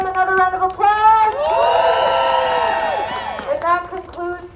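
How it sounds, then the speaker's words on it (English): Crowd at an outdoor march for Palestine in Washington DC cheers and whoops with sustained high shouts over scattered clapping, loud and close, rising and falling in waves. "Let's give 2RM another round of applause."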